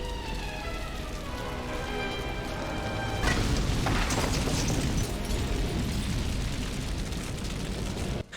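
A deep, rumbling explosion from the Smallville episode 'Hothead' swells about three seconds in and roars on as a sustained, loud blast over a droning tone, then cuts off abruptly.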